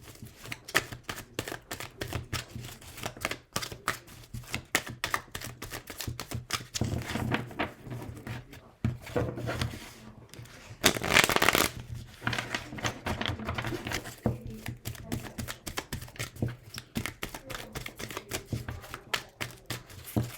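Magic Luna Love oracle cards being shuffled by hand, a steady, dense patter of quick card riffles and flicks lasting throughout with a brief louder burst midway, close and alone without talk.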